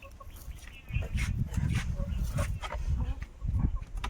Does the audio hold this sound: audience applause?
no